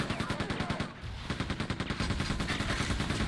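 Rapid bursts from the disruptor gun in Quake II: Ground Zero, a steady stream of loud, evenly spaced shots with a brief pause near the middle before the firing resumes.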